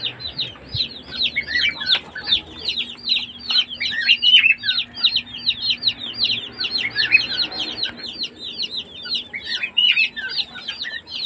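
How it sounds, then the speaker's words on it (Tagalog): Baby chicks in an incubator chirp and peep constantly, a busy chorus of high, thin calls close by with a faint low hum underneath. "So ayan o, safe na safe ang ating alagang sisiw."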